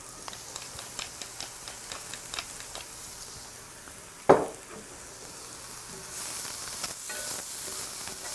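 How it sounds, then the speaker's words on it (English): Courgettes sizzle as they brown in oil in a pan, a steady crackling hiss with a sharp clatter midway from stirring or adding food, and the sizzle grows louder toward the end, with no talking. "I'm going to brown off some of the courgettes as well"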